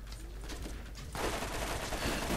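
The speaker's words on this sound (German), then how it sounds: "Ich versuche dann mal hier ein bisschen rumzuballern hier." Continuous gunfire in the video game Borderlands, steady bursts that swell louder and denser halfway through, with a player speaking over the shooting.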